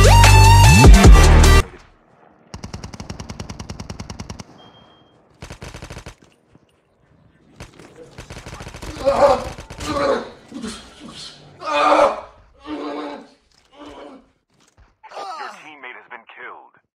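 Bursts of rapid automatic gunfire and single shots from a Call of Duty Mobile battle royale match, loud at the start and then broken into short volleys with someone talking between and over the shots.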